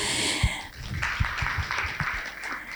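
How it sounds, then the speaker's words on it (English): Conference attendees applaud a panelist in a steady, moderate round of many hands clapping, with a breathy sound close to the microphone at the start. "A round of applause."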